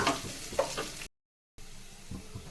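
Curry leaves frying in hot oil while brinjal curry is cooked, a crackling sizzle with some stirring that cuts out abruptly to silence and then returns more faintly.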